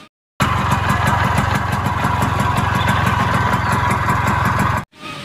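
A toy Vespa motor scooter plays its electronic engine sound, a loud, steady buzzing putter that starts abruptly after a brief silence, runs evenly, then cuts off before a short faint tail.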